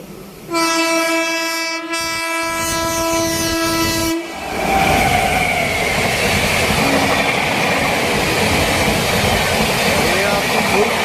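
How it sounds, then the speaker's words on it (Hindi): An Amritsar–New Delhi Intercity Express arriving, with a loud, sustained horn blast that stops abruptly and gives way to the heavy rumble and rolling clatter of the train passing close by. "गाइस ये देखिए ट्रेन आती हुई।"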